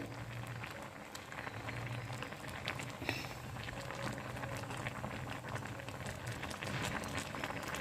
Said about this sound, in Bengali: দেখো গোটা গোটা পুরো সেদ্ধ করে নিচ্ছি।